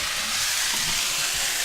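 Menudo with carrots and potatoes sautéing in a pan gives a steady, close hiss and sizzle, with soft stirring scrapes running through the whole stretch and no voices.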